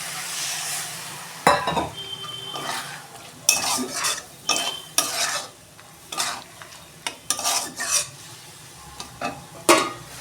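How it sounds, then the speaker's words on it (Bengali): A little water poured into cooked-down masala in a frying pan, bursting into loud sizzles while a metal spoon stirs and scrapes in irregular strokes over about ten seconds, close and without speech. "আমি অল্প জল দেবো"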